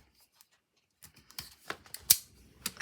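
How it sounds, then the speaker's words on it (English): Scissors snip through the seal on a package, a second of near silence and then a few crisp, close cuts and crinkles in quick, uneven succession. "Let's cut this seal."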